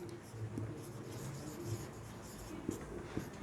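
Numbers written by hand on paper, a soft scratchy pen or pencil rubbing in short strokes, quiet and close, with a few faint taps and no talk.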